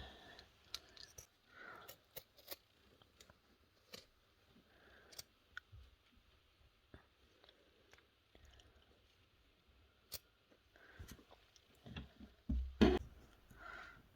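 Scissors cutting out an in-the-hoop embroidered Advent stocking, quiet scattered snips and clicks spaced irregularly, close but faint, with a louder rustle near the end.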